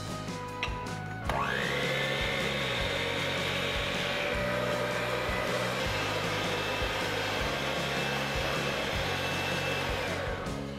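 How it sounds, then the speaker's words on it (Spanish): An electric mixer beats egg whites for a sponge cake. It whirs on abruptly and holds a steady, high-pitched motor whine for about ten seconds, with no talking. "vamos a montar las claras con la ayuda de una batidora"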